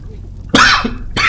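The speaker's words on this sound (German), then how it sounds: "Jetzt habe ich aus Spaß gehustet und jetzt wirklich gehustet." Two harsh coughs, one bursting out after a quiet moment and another following, close and loud.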